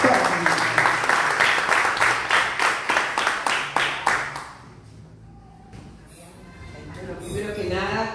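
Audience applause for a speaker at an event, brisk rhythmic clapping for about four seconds that fades out, followed by quiet room tone and then a person beginning to speak.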